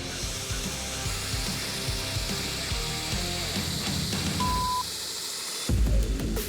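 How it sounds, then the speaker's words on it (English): A bench grinder works a forged, heat-treated knife blade during a timed bladesmithing competition, giving a steady, continuous mechanical whir that holds for several seconds, with a brief shift and louder burst near the end. "The heat treat is good, and now I'm gonna grind."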